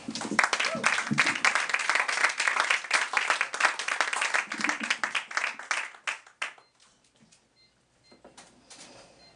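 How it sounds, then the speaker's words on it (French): Warm applause for poet Céline Vincent at a World Poetry Day event, a lively burst of many hands that thins out and stops after about six seconds, followed by a few scattered claps and faint room noise. "on applaudit chaleureusement Céline Vincent"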